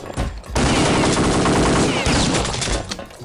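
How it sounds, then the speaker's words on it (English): Rapid bursts of gunfire from above in the shooter game Kingpin, a loud sustained volley of overlapping shots after a brief lead-in, then trailing off. "Someone shooting from up there."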